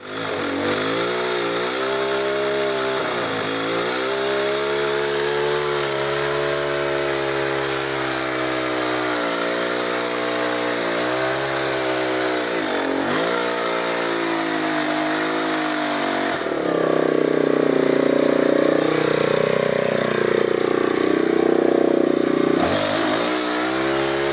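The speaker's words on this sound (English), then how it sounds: "So, I'm just going to go and fire up the Ryobi with the attachments on, and let's get chopping." A Ryobi Expand-It trimmer attachment cuts back overgrown ivy, its small engine droning steadily and loudly with slight pitch swings, then rising into a harsher, fuller roar near the end as it bites into the growth.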